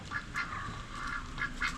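Several ducks quack repeatedly at close range in short, irregular bursts over a low background rumble.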